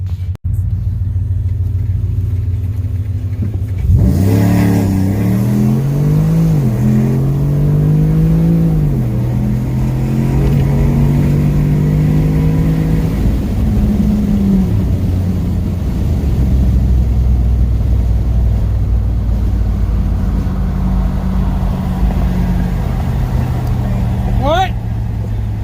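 A cammed Ram pickup truck rumbles at a choppy idle, then roars off in a drag race against an Infiniti, its deep exhaust note climbing through gear changes before easing back to a low, lumpy drone.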